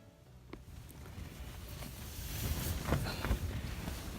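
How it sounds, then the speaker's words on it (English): Strong wind gusts roar outdoors on Mount Kilimanjaro along the Machame Route in roughly -20 degree cold, a steady rushing bluster that builds louder toward the end, buffeting the microphone with low rumble. "It's windy as hell."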